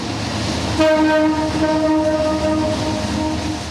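Crowded passenger train rolling past in rain, its horn blowing a long steady tone over the continuous rumble of the carriages, loud and near.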